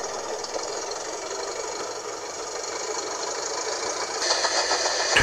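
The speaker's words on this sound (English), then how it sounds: "The car started chasing the little blue engine." A car engine sound effect in a children's train story runs steadily at a rough idle with a knocking rattle, growing a bit louder toward the end, without any talk over it.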